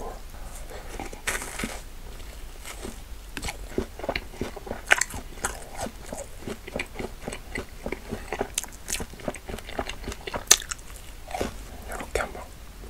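Close crunchy bites and chewing on a cheese ball, a steady run of crisp crackles and crunches spread across the whole stretch, with a brief spoken remark about the food.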